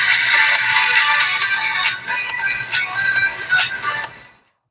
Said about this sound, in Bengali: ফোনটি অন করে দেখি।